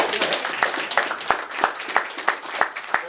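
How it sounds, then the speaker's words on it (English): An audience applauds at a county meeting, a moderate crowd clapping with a few distinct, loud individual claps repeating at a steady rhythm over the softer patter. "Let's just give them a round of applause right here."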